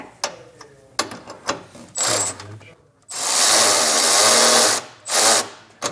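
A ratchet with a 7/16 socket tightens the black bolts on Firestone Ride-Rite rear air helper springs being fitted to a 2025 Chevrolet. Close, sharp clicking comes in short bursts, then a long continuous ratcheting run and one more brief burst.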